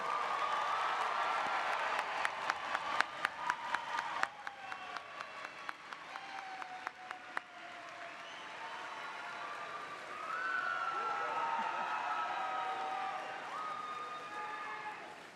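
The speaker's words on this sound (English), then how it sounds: "let's give KSU's newest alumni another round of applause" Graduation ceremony audience at KSU applauding new alumni: a dense, sustained roar of many hands clapping in a large hall, with sharp louder claps early on and scattered cheering mixed in, steady and moderately loud throughout.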